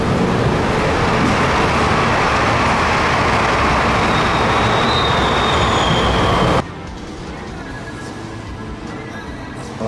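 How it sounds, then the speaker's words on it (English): A loud, steady rumble of a train rolling along the rails with a faint metallic squeal, cutting abruptly to a quieter hum. "the train is coming now"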